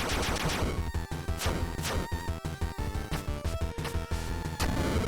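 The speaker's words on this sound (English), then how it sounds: "Oh my god, he's shooting." An enemy shoots in the Bloodstained: Curse of the Moon video game, a loud run of sharp, rapid retro-style gunshot blasts over a layer of game music.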